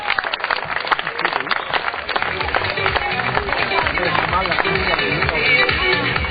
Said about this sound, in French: ouais, on applaudit bien fort